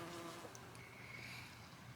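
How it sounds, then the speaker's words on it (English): Bees buzzing around salvia flowers in a garden, a faint, steady hum with a drone passing near, quiet and continuous with no talking. "the bees are still all over my salvia"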